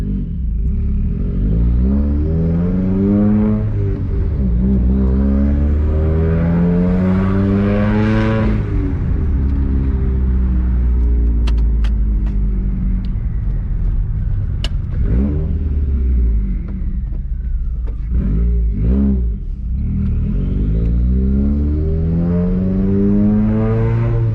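A Subaru WRX engine revs repeatedly while driving, loud and close, with rising and falling pitch sweeps through the gears and a steady road rumble beneath.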